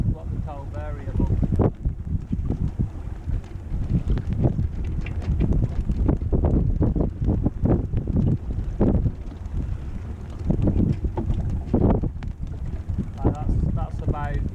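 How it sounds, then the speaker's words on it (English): Wind buffets a sailing boat at sea in variable gusts of around 20 mph, a constant rumbling rush across the microphone while someone talks over it throughout. "But the wind's what we call variable."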